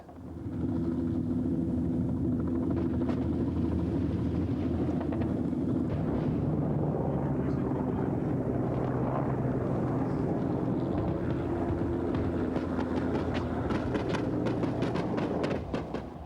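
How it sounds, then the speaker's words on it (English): A steady, loud mechanical roar with low droning tones and wind buffeting continues throughout as two Mi-24 helicopter gunships fly high overhead. "2 Mi-24 helicopter gunships armed with rockets and cannon, flying too high for the SAMs."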